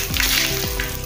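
Mustard seeds, cumin, fennel and asafoetida crackling in hot oil, a loud, continuous close sizzle over one brief moment.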